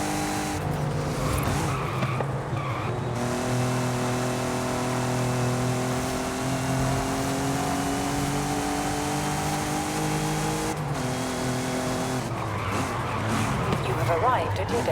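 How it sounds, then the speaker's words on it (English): A Volkswagen GTI in Forza Horizon 5 revs hard and shifts through gears, its engine tone climbing steadily in long rising pulls, loud and close, with a person talking over it. "Bloody hell, this is a quick GTI."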